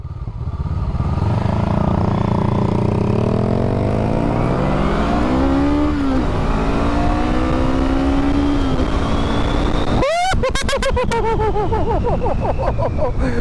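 A 2022 Honda Grom and a 2023 Honda Rebel 500 racing, with loud engines revving and rising in pitch through gear changes, a sharp clattering shift near the end, under constant wind rush.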